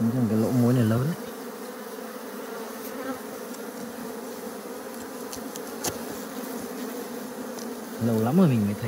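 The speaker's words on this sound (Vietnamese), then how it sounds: "Lâu lắm rồi mình mới thấy một cái ủ ong mật mà nó lại có mật luôn." Honeybees buzz steadily in a dense swarm around a wild honeybee nest in winter, a continuous close drone with brief bursts of a voice at the start and end.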